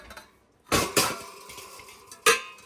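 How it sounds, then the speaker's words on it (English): Metal pots, pans and lids clatter and clank in a kitchen pan cupboard during a quick house tidy, three sharp close bangs with ringing tails separated by short pauses and softer handling noises. "I need to do a bit of a tidy up in this pans area."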